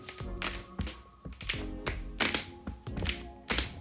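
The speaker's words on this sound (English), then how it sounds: "the floor creaking because it's sliding up against these inner H channels" Close-up creaking of a van floor sliding against inner metal H channels as someone walks over it: a run of sharp taps and knocking creaks, several per second, with a brief squeak between them.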